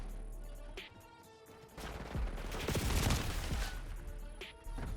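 Shotgun blasts ring out in Call of Duty Black Ops 6, a few loud shots in quick succession with rapid-fire bursts and mechanical clatter, no talk.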